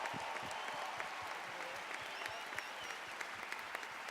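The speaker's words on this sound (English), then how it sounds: "If you would stand up so we could give you a quick round of applause for anybody from our military forces" An audience breaks into steady applause for members of the military forces at a seminar-style event, a dense, continuous clatter of many hands clapping throughout at an even level.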